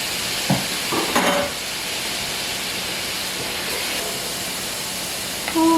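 Garlic sizzling with fried onions in a hot pan, giving a steady close hiss with a few brief knocks of a utensil early on, and no talk.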